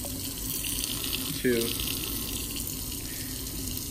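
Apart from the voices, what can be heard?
water running from a faucet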